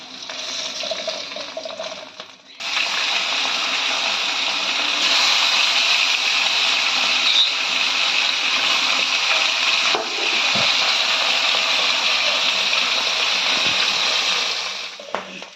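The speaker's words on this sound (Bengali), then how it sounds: "বাকি মাছগুলো আমরা একইভাবে ভেজে নেব।" Fish sizzling in hot oil in a pan, a steady loud crackling hiss that runs continuously after a brief quieter start, with no talking.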